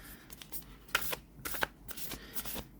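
Oracle cards are shuffled by hand, producing soft, quick card-on-card flicks and slides close to the mic, fairly quiet and without talk.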